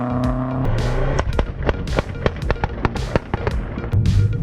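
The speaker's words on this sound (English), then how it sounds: "Apparently he's got anti-lag as well." A car engine with anti-lag revs with a rapid series of sharp exhaust pops and bangs, irregular and loud, close by.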